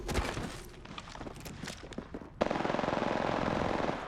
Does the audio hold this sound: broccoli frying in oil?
no